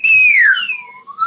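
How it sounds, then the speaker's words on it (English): A slide whistle glides in pitch, first dropping in a clear, loud sweep and then rising again at the end, heard alone for a little over a second. "I need more slide whistling."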